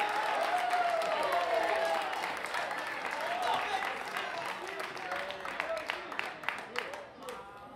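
Audience applause and cheering at a 1v1 breakdance battle final at Battle of the Year USA 2018, with sharp claps growing more scattered as it fades, under an announcer's voice.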